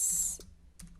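Typing on a computer keyboard while entering text into a SQL notebook, heard as a few soft, close keystroke clicks spread over about a second with a quiet pause between them.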